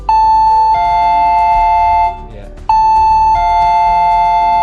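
A battery-powered doorbell, wired to the contact of a door lock access control set, rings twice with loud, clear electronic chime tones. Each ring steps between two sustained pitches, with a short gap between the rings.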